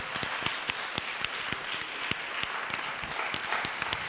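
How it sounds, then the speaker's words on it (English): An audience at a national economics debate applauds, a steady spatter of hand claps with sharp individual claps standing out, moderately quiet and held for about four seconds with no voices over it. "Thank you, clap for that"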